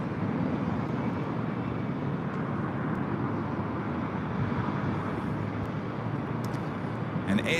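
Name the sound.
Atlas Air Boeing 747 arriving at LAX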